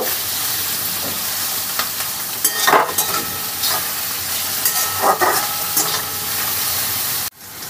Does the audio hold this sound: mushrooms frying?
yes